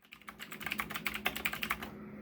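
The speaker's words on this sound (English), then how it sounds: "keep this in mind when you're listening to the sound clip of how loud this particular keyboard is" Quick, uneven typing rattles across a Razer BlackWidow Chroma V2 mechanical keyboard with yellow linear switches, a run of crisp, close clacks that stops abruptly near the end.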